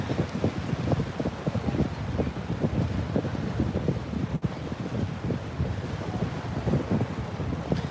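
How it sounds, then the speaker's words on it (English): Strong wind on a beach buffets the microphone in a constant loud roar, with a faint wash of surf beneath and no voices. "Let me know if the wind is too windy"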